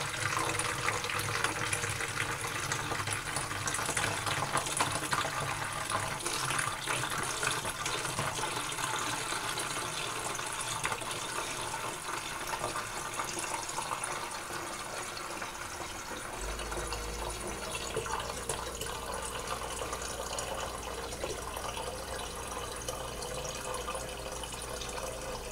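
Homemade fruit kefir pours from a pitcher into a bottle, a soft continuous liquid trickle and splash heard faintly and close throughout, with a slight change in tone near the end.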